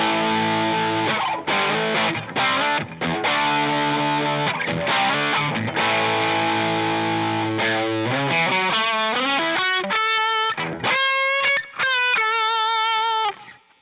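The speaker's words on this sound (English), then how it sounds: "let's say I want to get into like full-blown distortion territory" An electric guitar driven through stacked overdrive pedals into full distortion plays loud, saturated chords and riffs, then climbs into ringing sustained single notes and bends near the end, with no talking.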